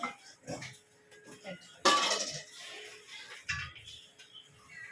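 A kawali frying pan handled during home cooking, with a loud clang and metallic scrape near the middle, a few lighter knocks, and quieter rustling, among people speaking nearby.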